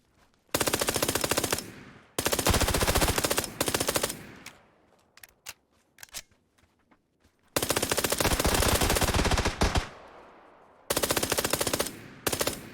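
Loud bursts of automatic gunfire from the video game PUBG on console, long sustained volleys separated by short gaps with scattered single shots in between, close and dominant.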